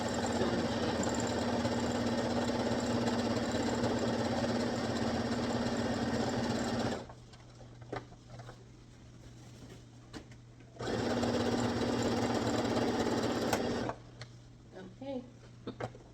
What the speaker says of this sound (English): And all you're doing is just guiding the sewing machine.